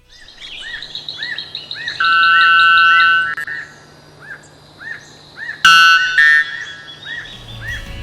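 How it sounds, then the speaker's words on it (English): A wattled bird from Trinidad, with a long wattle hanging from its head, gives loud, clear, bell-like ringing calls. The calls repeat in short bursts and one long sustained tone, with a few shorter chirps mixed in. "Its call sounds like a bell that can be heard from a significant distance."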